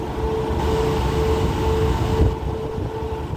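Special express train 40 rumbles at Ban Pong station in Thailand with a steady low rolling drone and a faint tonal hum, close and fairly loud, with no talk.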